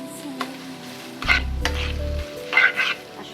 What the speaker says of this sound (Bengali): খুব অল্প আছে, এভাবে ভেজে নিব